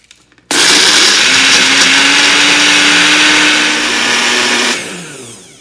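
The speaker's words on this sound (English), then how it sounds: "now I'm going to make a puree out of this whole thing" An electric blender purees fried onions for a Hyderabadi vegetable biryani, starting abruptly and running loud and steady for about four seconds with a rising motor whine, then winding down.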